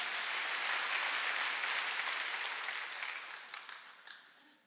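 Congregation applause during a Sunday church service, a broad wash of many hands clapping that holds steady, then thins and fades out over the final seconds with a few scattered claps.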